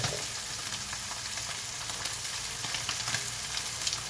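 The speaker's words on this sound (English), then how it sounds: "You're going to end up boiling your meat instead of frying it like we're doing here." Steak fries in oil in a pan with a steady, dense sizzle that crackles evenly and continuously, close and fairly loud, with no voices.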